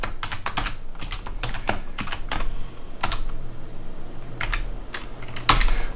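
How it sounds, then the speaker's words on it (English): Close, clear keystrokes on a computer keyboard come in quick irregular bursts with short pauses, alone, while a web page is written on a Raspberry Pi web server. "we type something in like this"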